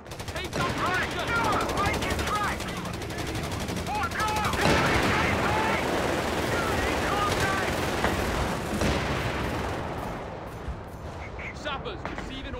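Rapid machine-gun bursts and rifle fire with occasional heavy booms in a Company of Heroes 3 battle, dense and continuous, with voices shouting over the shooting.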